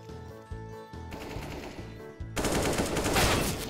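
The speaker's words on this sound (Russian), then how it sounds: "Громкий звук калаша." Kalashnikov rifle fire in Counter-Strike, heard in several short rapid bursts followed by a louder sustained volley, with no voices over it.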